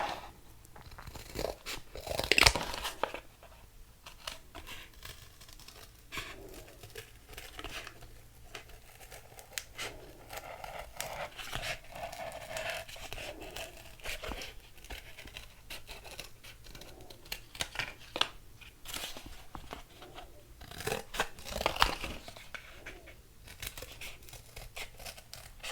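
Scissors cut out paper for a DIY holiday mailbox craft, with a long, uneven run of close snipping, crinkling and rustling, some louder strokes mixed with quieter handling, and no speech.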